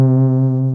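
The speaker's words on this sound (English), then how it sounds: "Revealing is just a note from the synth solo from before" A single sustained synth note from the solo of a remix of a song, played dry with no effects: a steady, harmonically rich buzzing tone held evenly for under a second, loud and alone.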